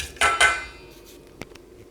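Scone mixture with liquid cream is stirred in a bowl. Two sharp utensil clinks land close together, followed by a single lighter tap after a pause.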